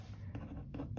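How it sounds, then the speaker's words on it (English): A pen or pencil writes on paper in a few quick strokes, producing faint, close scratching bursts over a low room hum. "Let me write"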